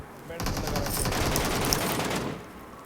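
Sustained automatic gunfire laying down covering fire in the mobile battle-royale game PUBG Mobile, a dense rapid burst of shots lasting about two seconds, loud and close, then stopping abruptly.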